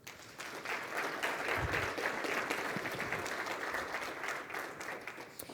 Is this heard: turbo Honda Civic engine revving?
no